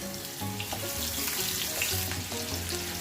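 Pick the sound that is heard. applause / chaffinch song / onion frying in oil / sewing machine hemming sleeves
onion frying in oil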